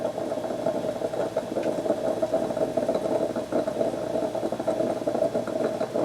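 A steady mechanical hum with a low rumble and faint rising pitch, an espresso maker heating water, continuous and close with no voices.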